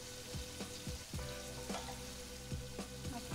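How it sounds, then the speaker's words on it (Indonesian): Cassava leaves sauté in hot oil in a pan, giving a steady close sizzle with repeated clanks and scrapes of stirring throughout, with no voices. "Sambil nunggu sambalnya, kita tumis daun singkongnya."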